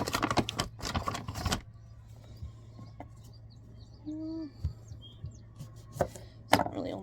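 A knife chops through a seed potato on a cutting board, a rapid burst of close, loud knocks at the start and again near the end, with quieter scraping in between.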